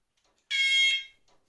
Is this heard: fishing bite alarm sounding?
yes